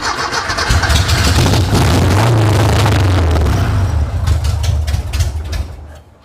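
Junkyard Porsche 914 engine cranking, catching and running loud and close for several seconds, then dying away near the end.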